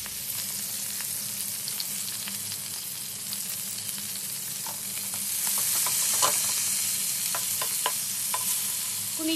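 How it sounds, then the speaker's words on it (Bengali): Food fries in olive oil while being stirred, a steady close sizzle with scattered spatters and scraping clicks, growing a little louder midway; no one speaks. "এখন এই যে অলিভ অয়েলে রান্না করি"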